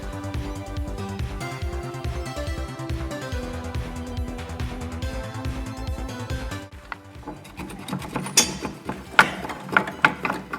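A ratchet wrench works on a bolt at a car's wheel bearing, with dense mechanical ratcheting at first and then slower, separate loud clicks near the end, close up.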